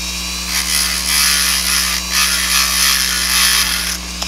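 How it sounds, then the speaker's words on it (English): Rotary tool slowly grinding away at a plastic model car grill, a steady high-pitched whine with a raspy scratching edge that swells and eases in short passes, close and alone. "Just slowly grind at it."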